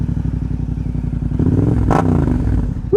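A motorcycle engine idles with a fast, even throb up close, then swells in a brief rev before settling, with a short clatter at the end; no talking.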